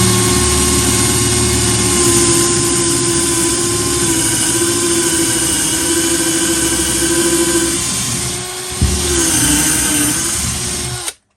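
A Parkside 12V cordless angle drill bores into wood with a loud, steady motor whine for about eight seconds, dips briefly as the load shifts, then spins on before cutting off abruptly at the end.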